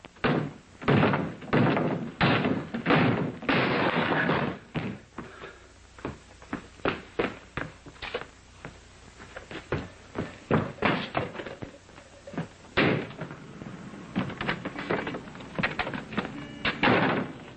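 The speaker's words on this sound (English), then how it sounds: "I could kick the door down." A door is kicked at repeatedly, heavy thuds and slams coming in uneven bursts, loud and close, with a few pauses between blows.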